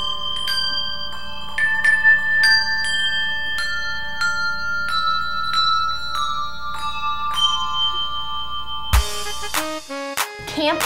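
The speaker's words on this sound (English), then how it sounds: "Camp Bell creates handbell ensembles." A handbell ensemble rings a steady run of clear, bright bell strikes with long overlapping sustains, and a louder, denser cluster of strikes comes near the end.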